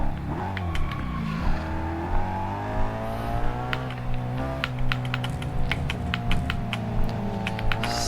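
A car driven in the video game BeamNG Drive hums and whirs with steady, shifting engine tones, while frequent sharp clicks and taps from a controller or keys punctuate it throughout.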